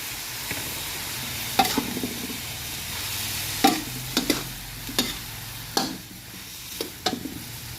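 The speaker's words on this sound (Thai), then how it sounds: "ผัดจนฟักเขาเริ่มจะใสๆนะครับ แล้วก็ใส่ไข่ลงไป" Winter melon stir-fried in a wok, then egg added: a continuous sizzle under a run of sharp spatula scrapes and knocks against the pan, roughly one every half second to second, close and clear.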